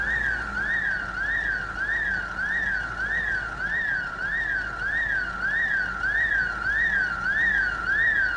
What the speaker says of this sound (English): But why the alarm?